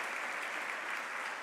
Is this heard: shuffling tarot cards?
no